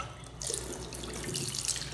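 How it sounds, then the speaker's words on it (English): A bathroom sink faucet in a liquor store restroom runs steadily, a close, continuous hiss and splash of water filling the basin without any talk. "And what about the sink water pressure?"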